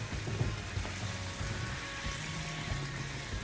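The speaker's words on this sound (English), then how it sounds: "I'm just gonna let it really saute, give it a nice little flavor" Lamb chops seasoned shawarma Cajun style sautéing in a pan, giving a steady close sizzle and crackle with a few soft clinks from tongs, no talking.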